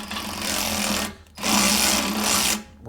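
A power tool whirs in two loud bursts, each about a second long, as bolts are tightened on the rear bumper of a Polaris Ranger, close by with a short pause between them.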